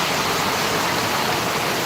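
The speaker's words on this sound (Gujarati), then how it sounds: "જોઈ લો આખી સોસાયટીમાંથી પાણી ભરી ભરી નીકળી ગયું જબરજસ્ત વરસાદ ચાલી ચાલુ છે" Heavy monsoon rain pouring down with floodwater rushing out through a housing society, a loud, dense and unbroken roar of falling and flowing water close by.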